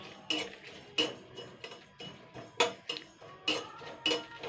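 Metal utensil scrapes and clinks against a frying pan while stirring spices and a dried red chilli, at an irregular pace, close and fairly quiet, with no voices.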